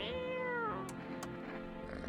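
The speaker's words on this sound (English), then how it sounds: "Reach out and pet the cat." A cat in a video game gives one clear, drawn-out meow close up, falling in pitch, then a couple of soft clicks follow in the quiet.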